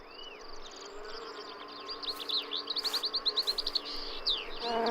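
Insects drawn to flowering plants buzz steadily close by, with rapid pulsing wingbeats and scattered bird chirps in the sunny outdoor background.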